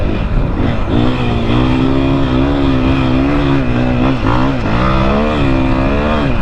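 A 2021 KTM 500 EXC-F dirt bike engine drones loud and close from onboard while riding a trail, holding a steady pitch with a brief dip and rise as the throttle changes.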